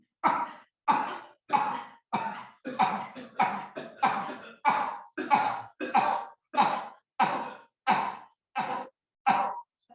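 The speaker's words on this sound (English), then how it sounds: "bring your left hand on your belly, right hand, two fingers away from your mouth, lips rather, and start coughing" Rhythmic, forceful coughs repeat steadily about once per second in a breathing exercise, close and breathy, each a sharp exhalation with short gaps and no talking.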